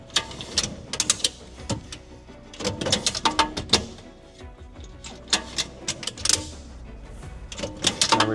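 A Molle slider shelf sliding in and out of the cargo area of a 2024 Subaru Crosstrek, producing repeated close clattering, rattling metal clicks and thumps in irregular bursts with short quieter pauses.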